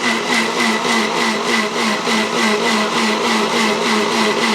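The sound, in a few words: grinding coconut, cumin and garlic with water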